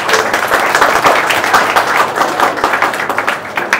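An audience at a gathering for medical entrance exam students claps loudly and steadily, a thick close wash of applause that pulses slightly as it goes on, with no talking.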